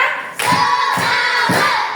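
A classroom of children clap together in rhythm at a teacher's call, three sharp group claps evenly spaced about half a second apart, close and loud over a faint background hum.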